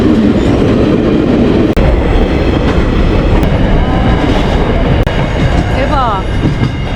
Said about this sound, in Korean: 열차 온다.